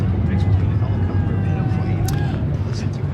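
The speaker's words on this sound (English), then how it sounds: "That's the loudest airplane" A loud airplane passes overhead during an amateur baseball game, a broad low rumble with a faint rising and falling whine over crowd and field noise; a voice talks over it throughout.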